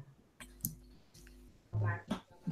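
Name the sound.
typing on a computer keyboard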